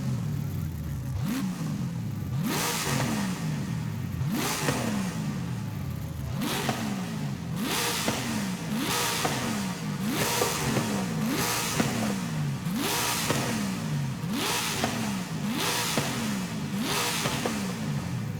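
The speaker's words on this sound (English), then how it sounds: "I'm gonna just stop here and give it a couple of revs." A V8 car engine in Forza Horizon 5 revs repeatedly in a steady rhythm, about a dozen sharp climbs and drops between throttle blips, loud and close with no talking.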